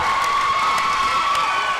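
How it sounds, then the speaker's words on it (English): Crowd cheering and applause fill a gym at a girls' high school basketball game against CCA, a steady, dense roar of voices and clapping with sharp shouts rising above it. "Round of applause for the senior captain"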